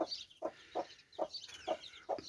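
A hen clucks softly and rhythmically, about six short calls in a row, with faint high peeping from her six newly hatched chicks in the background.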